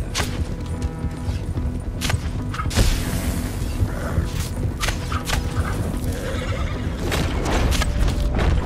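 A horse in the online western game Red Dead Online whinnies and neighs amid galloping hooves, with thumps, crashes and busy game effects all at a loud, dense level.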